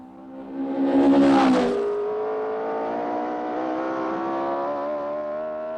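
A car engine on a test track revs up in a loud surge, then settles into a steady, sustained whine as it keeps driving, with no voices over it.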